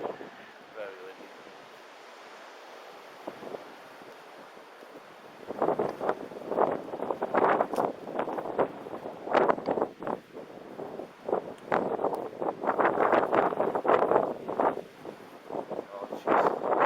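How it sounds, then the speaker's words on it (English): Strong gusts of wind roar across open abbey ruins on a blustery day, quiet at first and then loud buffeting bursts battering the microphone, with brief voices under the noise. "Very, very windy today."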